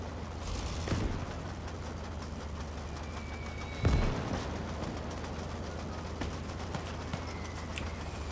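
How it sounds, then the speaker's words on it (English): Artillery fire in the video game Gates of Hell during a hardcore German conquest battle: two heavy booms land near one and four seconds over a constant loud rumble of combat, with distant small-arms cracks scattered throughout. "Oh man, they got bigger artillery."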